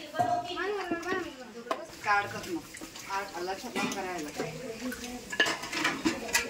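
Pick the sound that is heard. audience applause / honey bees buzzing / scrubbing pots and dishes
scrubbing pots and dishes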